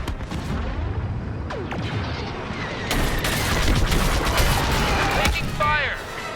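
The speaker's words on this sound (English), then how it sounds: "Taking fire!" Blaster fire and explosions crackle in the Star Wars Battlefront II (2017) video game, rapid bursts and booms layered over a dense space-battle din, growing louder midway.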